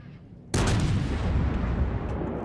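A World of Warships main-gun salvo from a Royal Navy Nelson-class battleship goes off in one loud, sudden boom, then rumbles on heavily with a long, dense roar, with no voices.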